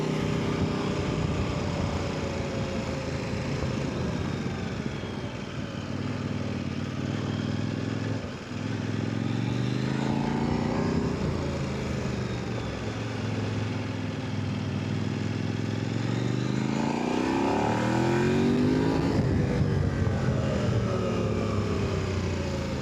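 A 2026 Kove 800X Rally motorcycle is ridden, its engine droning steadily throughout with rising and falling pitch as the revs change through shifts, heard close from the rider's position with wind noise underneath.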